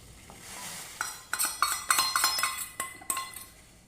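Ragi flour mixture being stirred into boiling water in a pot for nachni ambil, heard as a quick run of close metallic spoon clinks and scrapes against the vessel, with a soft bubbling hiss underneath.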